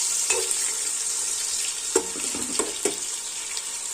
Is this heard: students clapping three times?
no